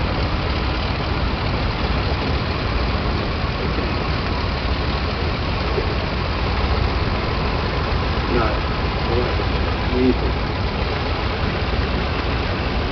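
A vintage WD9 tractor engine, started on petrol and then run on diesel, runs steadily throughout as a continuous rumbling drone with a low knocking undertone and some faint background noise.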